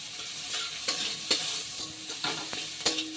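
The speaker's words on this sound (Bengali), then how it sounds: "এটাকে কিন্তু এভাবে একটু হালকা নেড়ে নেড়ে ভেজে নেব।" Sliced garlic, ginger and onions fried with dried red chillies in a pan for dhaba-style egg do pyaza, a soft continuous sizzle broken by several sharp scrapes of the spatula as it is stirred, close and alone.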